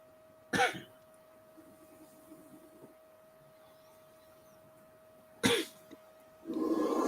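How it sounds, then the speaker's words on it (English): Two sharp coughs ring out several seconds apart in a quiet room with a faint steady hum, the second followed by a rough rumbling noise. "Just made me cough after it."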